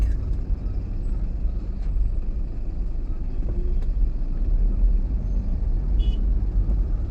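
Heavy traffic jam on Ghodbunder road, with a steady low rumble of idling and crawling cars and trucks, a faint horn or brake hiss now and then, heard from inside the stalled flow.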